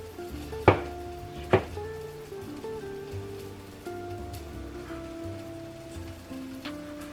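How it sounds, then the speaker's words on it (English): Tomatoes being chopped into pieces on a board, two distinct knife thuds early on and then a lighter, faint tap later, over a steady background hum with no talking. "And then now we'll chop the tomatoes into pieces."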